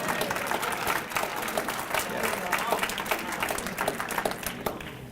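A seated audience at a talk applauds continuously, a dense, steady wash of many hands clapping at moderate distance that holds for several seconds and eases slightly near the end.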